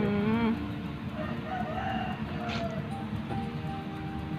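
Native chickens on a Thai village farm, with a rooster giving a short crow near the start over a busy background of clucking fowl and steady outdoor noise.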